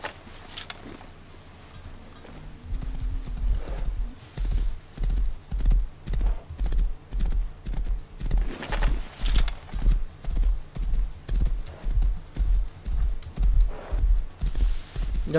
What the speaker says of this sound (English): we're gonna grab this horse